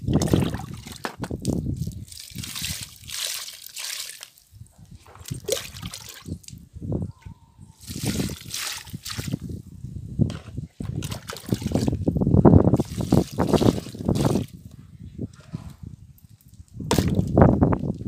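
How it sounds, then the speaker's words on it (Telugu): Water pours and trickles onto newly repotted rose plants in bursts, splashing and dribbling into soil, close by with brief pauses between pours; no voices. "ఇప్పుడైతే వాటర్ చేద్దాము"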